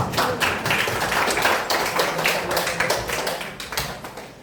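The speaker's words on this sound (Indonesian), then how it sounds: "Tepuk tangan untuk kalian." Students in a classroom clap their hands for classmates during a lesson on the circulatory system. A small group's clapping comes in uneven, distinct pulses, close and fairly loud, with no talking.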